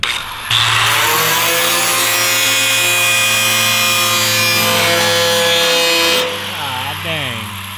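An angle grinder fitted with a cheap cut-off disc cuts into a steel truck bed, a loud, steady high whine that holds for several seconds before winding down and fading.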